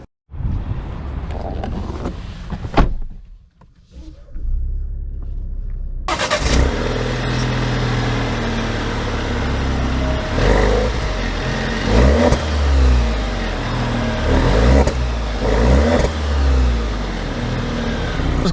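A 2022 Alfa Romeo Stelvio Veloce idles, goes quiet briefly, then its engine pulls away and keeps driving with a steady, loud hum, rising revs, and road and wind noise.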